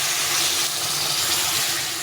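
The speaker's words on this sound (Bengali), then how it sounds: "গরম জলটা দিয়ে দেবো।" Hot water poured into a simmering potato and cauliflower fish curry, a steady broadband pouring hiss that runs evenly throughout without pause.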